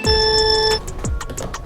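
A kitchen timer being set for three minutes gives a sustained electronic beep followed by a few short, sharp button chirps, loud and close.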